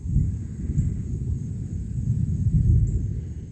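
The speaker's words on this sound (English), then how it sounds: "it's a thunderstorm coming." Thunder from an approaching thunderstorm rolls as a continuous deep rumble, moderately loud and swelling slightly, with a faint steady high tone above it and no voices.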